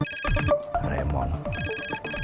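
A phone ringtone rings in bright, repeating electronic tones, broken by a short pause and a busier stretch in the middle before the pattern resumes, fairly close and clear.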